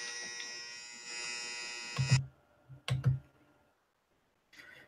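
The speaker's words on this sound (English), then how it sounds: "That was my dryer." A home clothes dryer gives a steady electric buzz for about two seconds that cuts off sharply. A few thumps and clicks follow, then a brief fainter buzz at the end.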